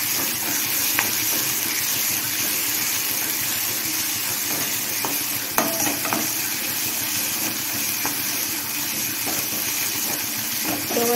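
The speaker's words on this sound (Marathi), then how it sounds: "टोमॅटो थोडंसं परतलं की अद्रक लसणाची पेस्ट आणि 3 मिरच्याचे जे मिक्सरमधून काढलं होतं त्याच्यामध्ये टाकून दिलं" Tomato, ginger-garlic paste and green chilli paste fry in a pan for toor dal varan, making a steady, even hiss with a few faint pops and crackles throughout.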